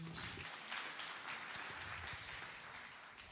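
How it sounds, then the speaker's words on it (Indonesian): Church congregation applause, a continuous distant-sounding roar of many hands clapping at low level, tapering slightly toward the end with no clear talk over it. "Berikan tepuk tangan yuk."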